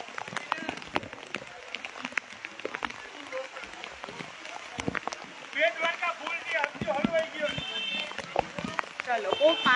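Heavy rain pours down in Dwarka in a continuous patter with sharp drops, while voices speak over it in the second half.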